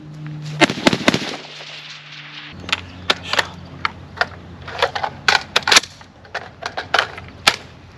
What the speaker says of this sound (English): I've put maybe about 70 rounds through it.